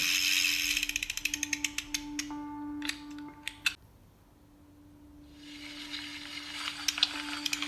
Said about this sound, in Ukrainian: Це діти їдуть на велосипеді.